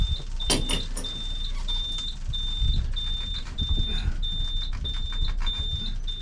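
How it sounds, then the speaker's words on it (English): A narrowboat engine's fuel pump running, heard as a steady series of regular high beeping pulses over a low mechanical rumble and clatter, fairly near. "we're going to turn it again and listen to the fuel pump"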